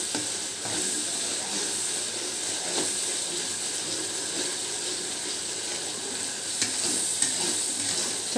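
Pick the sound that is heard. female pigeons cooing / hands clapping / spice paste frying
spice paste frying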